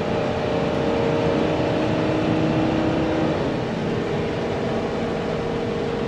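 A 2012 Pleasure-Way Excel Class B camper van on a Ford E350 chassis with a V10 engine accelerating onto an interstate, a steady loud drone from inside the cabin with a rising engine tone and a gear change midway, no talk.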